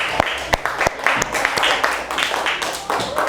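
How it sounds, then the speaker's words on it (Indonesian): Children in a primary school classroom clap for a classmate group, a few sharp, fairly close claps in an uneven rhythm over a busy room murmur. "tepuk tangan untuk kelompok 2"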